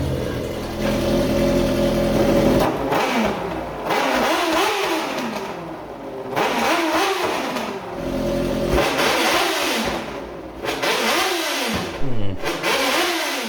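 A V12 engine revs hard through a mild steel exhaust header, repeated loud rising and falling blips in a rhythmic pattern of four or five pulls, close and dominant, with a little talk faintly under the engine.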